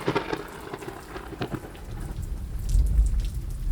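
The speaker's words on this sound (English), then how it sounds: "A deafening crack of thunder followed," A thunderstorm with heavy rain pelting down close by, sharp crackling bursts early on giving way to a deep rumbling roll of thunder beneath steady downpour.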